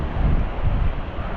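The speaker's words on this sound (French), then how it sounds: "Vu que le vent s'est levé" Steady wind blowing across open water on a boat trip back along the coast, a continuous low roaring rush buffeting the microphone with no voices.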